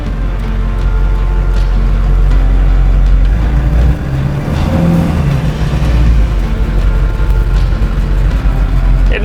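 A Duramax diesel truck pulls away under its own power after sitting in a shed, with a loud, rumbling engine that rises and dips as it moves, and voices talking over it.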